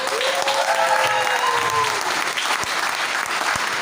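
Loud, sustained applause from a large audience at a public business presentation in Nepalgunj, steady throughout with a brief whistle-like tone early on.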